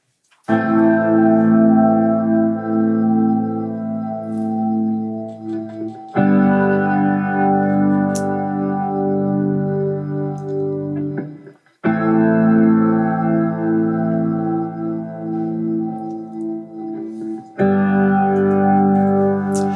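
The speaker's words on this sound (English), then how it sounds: "I started adding some electric guitar parts, which sounds like this." Electric guitar run through an Electro-Harmonix Lester G rotary pedal plays four long sustained chords, each ringing several seconds with a swirling modulated shimmer before the next one strikes, loud and alone with no voices.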